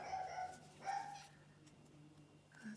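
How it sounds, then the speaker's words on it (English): A little dog yaps a couple of times at a distance, quiet and muffled indoors, then another faint bark comes near the end. "That's my little dog barking"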